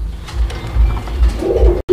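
Pigeons coo in a pen of fancy breeds kept for sale, with low, rounded calls repeating in a steady rhythm close by and no talking.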